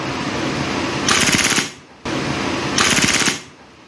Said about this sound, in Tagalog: So, eto yung Glock 18C natin. So, semi-auto. Full auto tayo, ah.